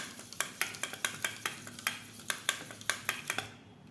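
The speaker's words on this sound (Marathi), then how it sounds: "ते छान असं फेटून घ्यायचं आहे." Fresh yogurt is whisked in a bowl until smooth and creamy, giving a close, rhythmic series of sharp clinks and scrapes, about three or four strokes per second, before stopping.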